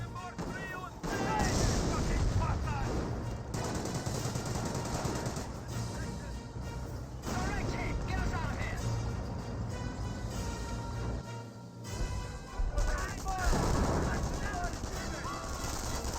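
MP40 submachine guns firing in the Company of Heroes real-time strategy game, a dense battle din of rattling bursts and heavier artillery thumps that runs almost without a break, with a commentator talking over it.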